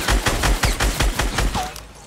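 Rapid bursts of gunfire in the Fortnite video game, about eight sharp shots in a steady rhythm over two seconds, loud and close, then tapering off.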